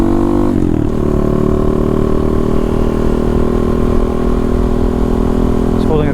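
A Honda Monkey motorcycle rides along a road at a held, steady speed, its small single engine droning loud and constant after a brief shift near the start.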